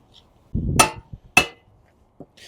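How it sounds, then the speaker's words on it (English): Two sharp metallic strikes ring out about half a second apart, a hammer driving a bar into a thick tire bead on a rim with a brief clanging ring, followed by quieter knocks. "We have to hammer in a bar because it's so thick of a bead"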